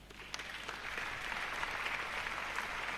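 A church congregation applauding together during a French-language sermon, a dense, steady wash of clapping that fills the space from start to finish with no break.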